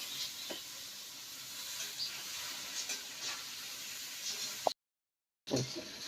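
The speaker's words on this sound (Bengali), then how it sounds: "পটলগুলিও ভাজতে নেব।" Pieces of pointed gourd fry in oil in a pan, a steady soft sizzle and hiss with a brief gap and a few small clinks, fairly quiet.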